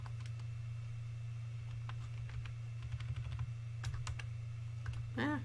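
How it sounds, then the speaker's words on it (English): Typing on a computer keyboard while formatting a file as an eBook: a quiet, irregular patter of key clicks in scattered bursts over a steady low hum, close and soft, with no talking. "So I just type out the basic hyperlink just to show you an example"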